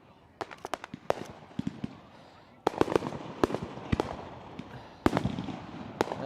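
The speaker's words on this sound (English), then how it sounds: "Look at the fireworks again." Fireworks burst repeatedly at an outdoor wedding, sharp cracks and booms arriving in irregular clusters at mid distance, with a louder barrage near the end and voices murmuring underneath.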